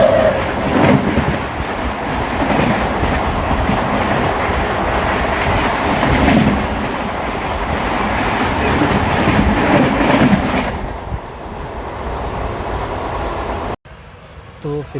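The 12787 Narsapur–Nagarsol SF Express rolls along the rails with a loud continuous rumble and rhythmic clickety-clack, then eases and quiets toward the end as it slows into a station.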